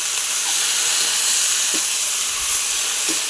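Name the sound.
banana flower poured into a hot pan and frying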